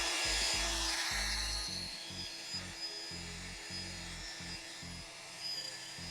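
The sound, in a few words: wet sanding car headlight with 3000 grit sandpaper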